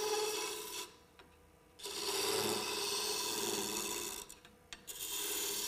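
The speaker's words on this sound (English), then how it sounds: "put the tip of the skew into the material, sweep across, tip of the skew in" A skew chisel cuts wood on a lathe in steady sweeping passes, a loud continuous scraping rasp broken by short pauses between strokes.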